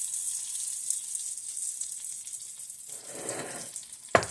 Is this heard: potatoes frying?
yes